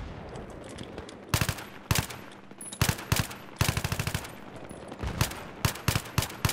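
Battlefield 3 gunfire, with sharp rifle and machine-gun shots fired in quick strings and short rattling bursts, some close and loud and others lighter, all separated by brief pauses.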